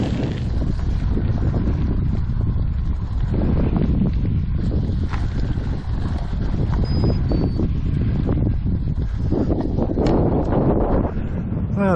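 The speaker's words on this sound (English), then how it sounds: "The wind is starting to rise now a little bit" Gusty wind buffets the microphone near the Bog-Derryounce Lakes outside Portarlington, a continuous rumbling roar with rustling swells and brief crackles throughout.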